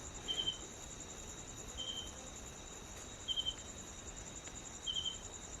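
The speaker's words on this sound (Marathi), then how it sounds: "रातकिड्यांचा मस्त आवाज येतो आहे" Faint, steady cricket chirps repeat at regular intervals in a Konkan village at night, each a quick trill, over a soft hiss of night ambience with no voices.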